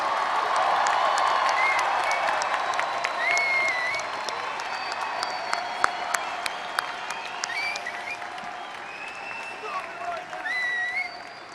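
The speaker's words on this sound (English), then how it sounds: "Let's give a big round of applause to the class of 2023." Sustained audience applause at a high school graduation ceremony for the class of 2023, dense steady clapping with scattered whistles and cheers, tapering slightly toward the end.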